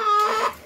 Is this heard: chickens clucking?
yes